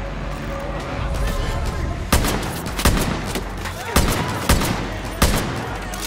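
Sniper rifle shots in the video game Far Cry New Dawn, several sharp cracks spaced about a second apart over a steady engine-like rumble, loud and close, with a voice speaking over parts of it.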